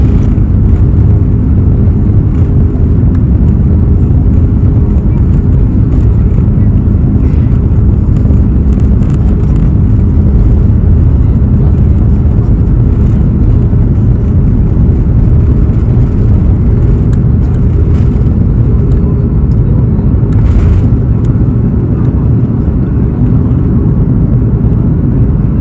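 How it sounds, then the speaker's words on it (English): A Sri Lankan Airlines airliner taking off from Lahore, heard from inside the cabin as a loud, continuous low engine roar and rushing whir that holds steady throughout with no speech. "enjoy the bustling sound of Sri Lankan Airline takeoff"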